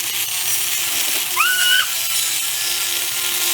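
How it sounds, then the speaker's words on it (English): A rotary grinder cuts through an unwanted metal link on a handmade Kaneki mask, giving a continuous high, thin whine with a brief rising squeal partway through. "I grinded off the link that I did not want"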